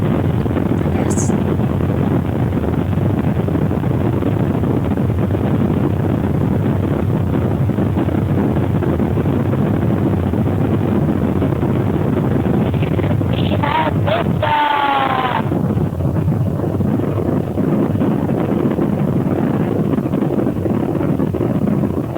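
Steady broadband roar of airplane cabin noise during a flight to Florida fills the whole stretch, unbroken, with a brief faint chirping burst near the end.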